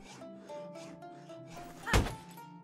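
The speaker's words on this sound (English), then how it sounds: "At the start, you will place the spike and break it" A spike structure being struck and broken in the medieval combat game Mordhau, with faint scraping, rubbing noises and then one sharp, louder cracking impact near the end.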